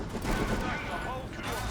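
Dense gunfire from heavy ranged units in a Dawn of War 3 battle, with steady loud crackling fusillades and volleys throughout, running under a commentator's voice.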